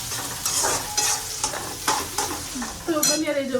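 Vegetables sizzle as they fry in a tempering (vaghar) in a home kitchen, with a steady hiss broken by repeated scraping stirs of a spoon in the pan, close and fairly loud, no talk.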